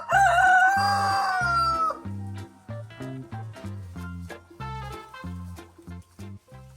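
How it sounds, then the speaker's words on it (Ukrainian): A rooster crows once at a village house, a loud, close cock-a-doodle-doo followed by rhythmic background music. "Можу хіба на додачу показати півника."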